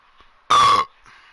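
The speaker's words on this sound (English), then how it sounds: "They don't need to hear you burp." A single loud, close burp lasting about a third of a second, standing out sharply against near silence in the middle of a baseball video game broadcast.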